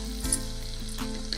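Ground spices such as chili powder and coriander powder frying in hot oil in a pan, giving a steady close sizzle with light stirring over it and no talk.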